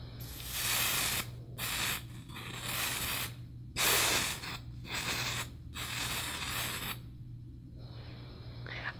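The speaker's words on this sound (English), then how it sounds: "we'll go ahead and spray it" A drugstore powder spray being sprayed in a series of short and longer hissing bursts separated by silences, close and fairly loud, with a faint low hum beneath.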